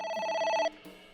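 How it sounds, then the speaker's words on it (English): A phone rings inside the video game AI: The Somnium Files, a steady electronic bell with bright stacked tones that stops abruptly partway through and leaves a faint hum behind. "A phone. Should I pick it up?"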